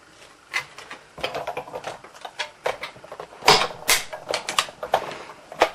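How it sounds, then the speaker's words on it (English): A Big Shot die-cutting machine pressing cardstock through a die, heard as a series of close, irregular clicks, creaks and cracking snaps as the plates are cranked through, louder toward the middle. "So then we'll run this through the big shot."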